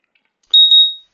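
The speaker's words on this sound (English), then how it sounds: "I have a lot of alarms ringing now." A single sharp electronic alarm beep rings out loud and close, a bright tone lasting about half a second after brief silence, then fading away.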